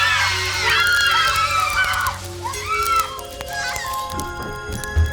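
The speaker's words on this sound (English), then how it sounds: "both girls screamed in chorus" Two girls scream together in a dramatized ghost story, raw and unhinged: loud, wavering, overlapping shrieks that rise and fall in pitch, close up, and fade into quieter breathy cries near the end.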